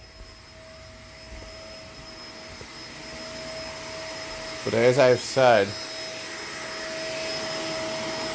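A Shark LA702 vacuum cleaner hums steadily at a low, even level throughout, with a voice briefly talking over it in the middle.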